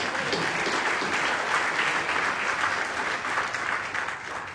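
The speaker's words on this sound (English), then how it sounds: "I think a round of applause for 22 is pretty good, right?" An audience at an evening lecture event claps steadily and warmly, a dense even wash of applause from a full room, with no voices over it.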